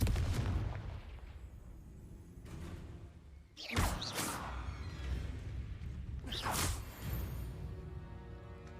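Confringo fire spell cast in the video game Hogwarts Legacy, with two sharp whooshing blasts followed by crackling, booming explosions over a low rumbling game background.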